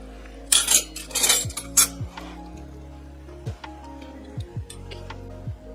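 Silver plate flatware pastry tongs being handled, with a few bright metallic clinks and rattles early on, then softer scattered taps and ticks against a steady low background hum.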